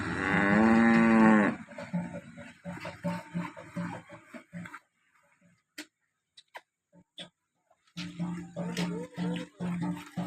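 A cow that calved the day before, with her newborn white calf, lets out a loud, close moo at the start, followed by quieter shuffling and handling sounds with a pause in the middle.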